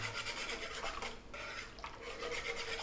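A whisk scraping and stirring steadily through a mixture in a pot to break up lumps, a soft continuous rasping rub with faint metallic clinks and no talking.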